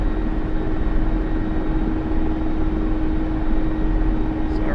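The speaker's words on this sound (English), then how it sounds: "this thing flies like no other helicopter I've ever flown before" A Mi-24 Hind attack helicopter in the DCS flight simulator drones with a loud, steady turbine and rotor roar, a constant dense rumble holding an even level throughout with no voices.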